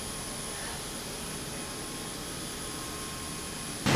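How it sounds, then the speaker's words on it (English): A landfill gas power generation engine drones steadily and continuously, a broad, even mechanical roar with a thin high whine, ending in a sudden louder burst. "engine where we use it to produce power."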